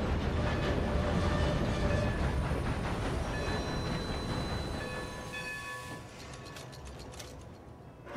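A train ride in the video game Red Dead Redemption 2, with a steady rumbling roll of wheels and clanking carriage mechanisms that fades down and gives way to lighter rhythmic clicks toward the end.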